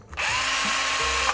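A Makita HR166D cordless rotary hammer running in reverse, a steady high-pitched motor whine that starts abruptly and holds loud and close for about a second.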